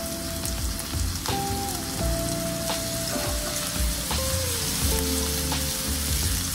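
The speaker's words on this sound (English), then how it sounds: "And now do the same thing to your shrimp. I'm going to add them to the pan now." Shrimp frying in a pan on medium heat, a continuous crackling sizzle with spatter pops and a low background hum, steady and close.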